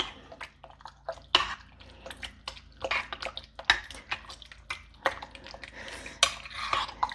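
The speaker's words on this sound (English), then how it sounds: "And I'm going to give it a good stir." A spoon stirs beef chili in a slow cooker, knocking and scraping against the crock. The clinks and wet shuffles come in quick, irregular bursts, close and fairly clear, with no talking.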